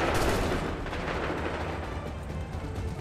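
Gunfire in the video game Assassin's Creed III, a thick continuous roar of musket shots and battle noise that stays loud and steady without a break.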